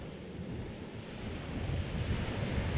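Ocean waves wash steadily onto a beach, a broad continuous roar of surf with some wind buffeting the microphone, swelling slightly louder toward the end with no voices.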